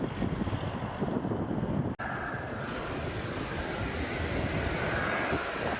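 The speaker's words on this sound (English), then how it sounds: "This Airbus A350 is landing in a heavy downpour and poor visibility." Airbus A350 airliner landing in a heavy downpour with poor visibility, heard as a dense, steady roar of rain and rushing air with a sharp dropout partway through, then a faint high whine over continuous noise.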